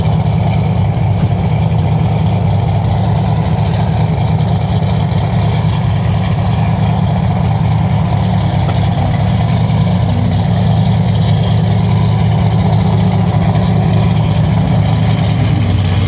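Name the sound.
engine and exhaust of off-road rock crawler car 262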